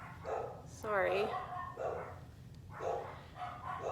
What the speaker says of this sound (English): It's not really one of my videos without some barking in the background.